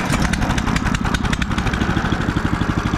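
A cheap Harbor Freight small engine on a budget sawmill runs steadily with a loud, even, rapid chugging pulse close to the listener, with no talking.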